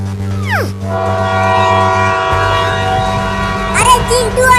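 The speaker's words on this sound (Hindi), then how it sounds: "इसी लाइन पर आगे से एक और ट्रेन आ रही है।" A train on a railway line in a cartoon, with a loud horn blast, rumbling rail noise and rising whistle-like tones near the end, heard up close.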